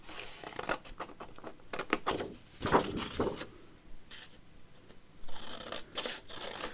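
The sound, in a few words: scissors cutting mixed media paper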